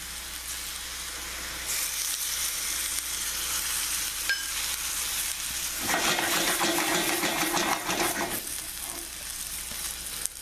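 Marsala wine hits a hot pan of floured loin veal chops over a high flame, a steady sizzle that flares into a louder, crackling burst partway through before easing back to a simmering fry.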